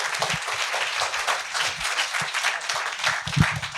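An audience bursts into a big round of applause for a guest speaker at a Matisse in Morocco talk, a full, continuous crackle of many clapping hands filling the room.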